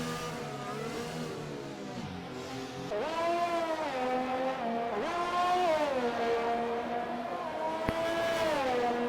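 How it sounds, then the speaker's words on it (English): A race car in a video game runs a hot lap of the Belgian Grand Prix circuit, its engine droning steadily and rising through repeated upshifts and revs, loud and close with no talk. "As first out on the hot lap right now is Lando."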